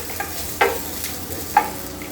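Onion, green chili, coriander, cumin, ginger and garlic fry in a pan for fish green masala, a soft sizzle broken by two sharp spatula scrapes against the pan.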